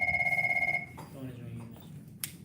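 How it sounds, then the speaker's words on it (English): A telephone bell rings in a classroom during a calculus lesson, with a steady pulsing double-tone ring for under a second before it cuts off, followed by people talking and a brief clack. "The phone is ringing."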